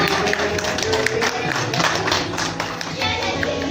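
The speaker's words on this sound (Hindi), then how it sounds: "जोरदार तालियां छोटी बच्ची के लिए।" An audience claps for a little girl at a national drama festival in Rajouri, a lively patter of hands with a crowd murmur and some voices mixed in, sustained and fairly close.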